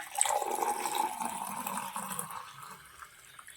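Sambaram, a spiced buttermilk drink, is poured into a glass, giving a soft liquid splash and trickle that fades out over a few seconds and stays fairly quiet.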